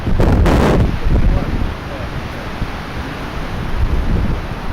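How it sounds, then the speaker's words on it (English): Loud, continuous wind buffeting a microphone, low rumbling gusts that swell and ease throughout, with no voices. "windy as hell, like you wouldn't believe"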